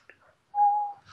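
A single short, clear whistle from a person sounds up close, steady and high-pitched, after a couple of faint soft blips.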